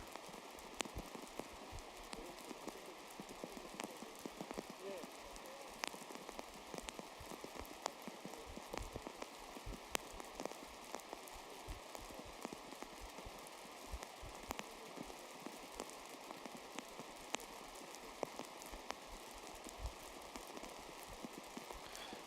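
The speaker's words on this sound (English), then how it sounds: "It has been a steady and consistent downfall of rain for the last 45 minutes to an hour." Steady rain falls on a golf course during a women's professional tournament, a constant soft hiss of drops scattered with faint patters, even and unbroken throughout.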